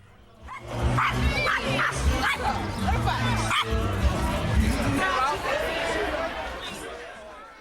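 Two or more dogs bark, yip and whimper loudly while playfighting, a busy, continuous scuffle with overlapping barks near the listener and people chattering in the background.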